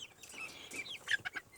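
Brahma chickens cluck in short, soft, irregular bursts nearby, a few sharper calls standing out over quiet background.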